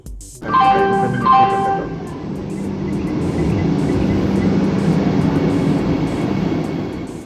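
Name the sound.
Vande Bharat Express train approaching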